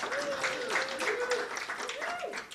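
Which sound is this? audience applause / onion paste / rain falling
audience applause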